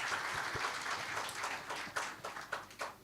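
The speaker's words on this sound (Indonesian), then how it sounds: "sekali lagi berikan tepuk tangan buat teman-teman dari KMK Teknik" Congregation applauding during a church youth worship service, a steady wash of many hands clapping at moderate volume with a few sharper individual claps standing out.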